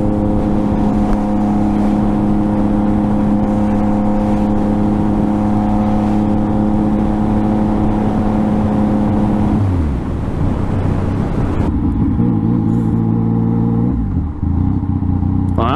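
A supermoto motorcycle engine droning loud and close with a steady tonal hum, shifting pitch near the end as it revs and changes speed, with no talking.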